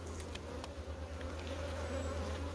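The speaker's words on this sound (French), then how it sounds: "Ça c'est pas un essaim que j'ai attrapé" A honey bee swarm made from a colony hums as a steady, dense buzz close by, with no voices.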